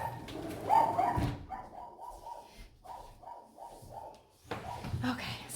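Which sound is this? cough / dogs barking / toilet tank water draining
dogs barking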